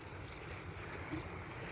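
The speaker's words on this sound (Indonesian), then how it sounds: "Seperti aliran air ini." Steady broadband rush of flowing water, continuous and even with no breaks, heard alone without any voices.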